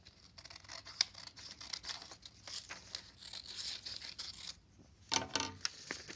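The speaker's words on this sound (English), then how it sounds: "we're just going to cut right along this line here and remove that bottom edge, that bottom portion" Scissors snip through paper to cut a paper snowflake, with repeated crisp cutting and rustling strokes close up, then a sharper burst of snips near the end.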